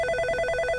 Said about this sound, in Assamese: ফোন আহিলে ৰবাচোন মই উঠাই চাওঁ